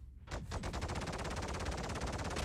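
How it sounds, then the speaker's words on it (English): Ship guns in Star Citizen hammer a turret with a fast, even burst of rapid-fire shots, loud and close, running unbroken for about two seconds after a brief lead-in. "So if I'm shooting directly at the turrets itself, not the guns, but the base of the turret, you can see how fast the health decreases."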